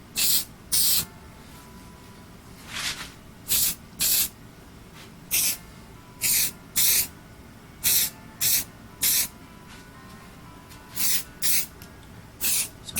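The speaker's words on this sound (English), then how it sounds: "Spray can down low." Spray can painting a 1/64 scale custom model car white, about fifteen short, loud aerosol hisses in quick bursts, some paired, close to the mic with quiet pauses between and no talk.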